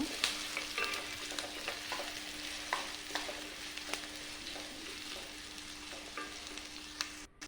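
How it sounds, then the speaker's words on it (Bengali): Green chilli and onion frying in oil in a wok: a continuous close sizzle with scraping stirs at irregular intervals, no voices. "এখন এখানে দেবো কাঁচা লঙ্কা, পেঁয়াজ, এটাকে ভালোভাবে মিক্স করে নেব"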